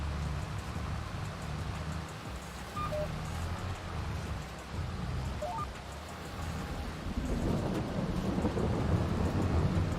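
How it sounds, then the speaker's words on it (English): Steady rain falling with rolling rumbles of thunder in the farming video game Farming Simulator, a continuous wash of rainfall that swells louder toward the end, heard alone without talk. "Oh no, it's raining."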